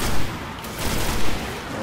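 Gunfire in the Destiny video game, a dense, continuous spread of shots and booms in a firefight, steady and fairly loud with bursts rising around the middle, no voices over it.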